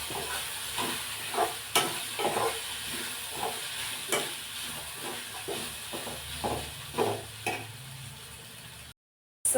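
Vegetables with grated carrot and coriander frying in a pan, a steady low sizzle with repeated rhythmic scrapes of a spatula stirring, close and moderate, cutting to silence just before the end.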